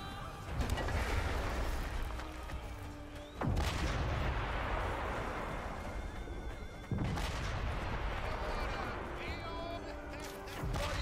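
Cannons in the medieval combat game Chivalry II fire in heavy booming blasts, two large explosions with lingering rumble over continuous battle noise, while a player talks throughout.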